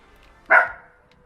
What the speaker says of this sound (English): So there's a lot of barking happening